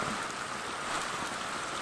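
Steady broadband rushing of floodwater spreading over a garden plot during heavy rain in Kottayam, as the Meenachil river overflows its banks. It is loud and continuous, with no talk.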